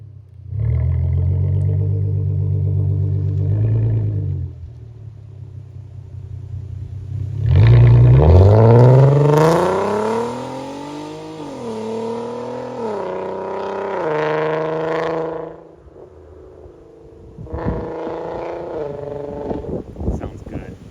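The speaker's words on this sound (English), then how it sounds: "Let's hear some revs." A Volkswagen MK5 R32 with an ECS valved exhaust, valves closed, idles low and steady, then is revved hard several times in rising, falling sweeps before settling back to idle, loud and close.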